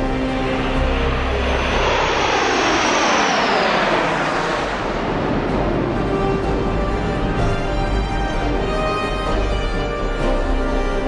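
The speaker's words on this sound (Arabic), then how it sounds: "طائرات الرافال والتي تعد من أحدث طائرات الجيل الرابع المتقدم انضماما لقواتنا" Rafale fighter jets sweep over an Egyptian Air Force graduation parade with a loud, roaring pass. The pitch falls as they go by, and the heavy roar carries on steadily afterward.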